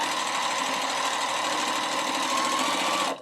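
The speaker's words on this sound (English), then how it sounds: "here I'll sew the rest of these and then show you" Sewing machine stitching a pieced quilt block, running steadily and fairly close for about three seconds before stopping abruptly.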